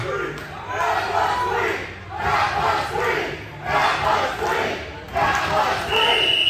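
Live crowd at a CCW Conquer wrestling show in Kissimmee roars and chants continuously in loud swelling waves, with shouts rising and falling every second or so and occasional thuds beneath.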